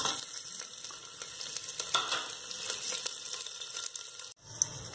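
Whole spices and chopped green chilies sizzle in hot oil in a pressure cooker, a steady close crackling fry with a brief clatter near the end.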